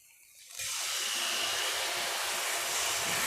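A small splash of water poured into sizzling spices in a pan while cooking a village-style fish dish, a sudden loud hissing sizzle that bursts in and holds steady, close by with no talk.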